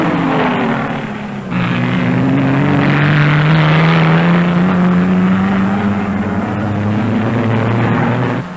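A 1957 Jaguar race car at the Sebring 12 Hours endurance race roars past, a loud sustained engine howl climbing steadily in pitch as it accelerates, with a constant background of race noise.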